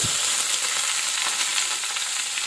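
Spinach (palak) and curry leaves sauté in hot oil, giving a steady close sizzle and hiss throughout with no talking.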